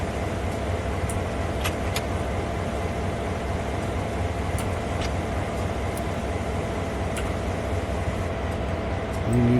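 A train in Train Sim World 5 at Johnstown, Pennsylvania rumbles steadily on the rails under braking as it backs up, giving a continuous low mechanical drone with faint clicks and a rise at the very end.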